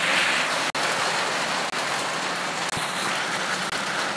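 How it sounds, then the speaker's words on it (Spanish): Steady rain hisses down during an outdoor game session, a constant loud wash broken by a few brief digital dropouts, with no talk. "No estaba planeado que lloviera."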